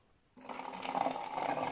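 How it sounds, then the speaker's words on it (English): About 200 ml of water is poured into a container for a morning pre-workout drink, a soft continuous splashing stream that starts abruptly after a brief quiet moment and runs steadily to the end. "I usually go with about 200ml of water"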